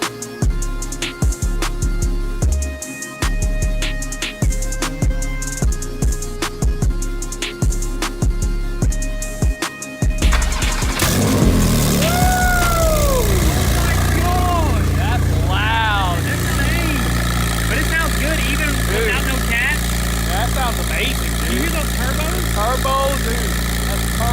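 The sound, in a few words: Porsche 991.2 Turbo engine revving through exhaust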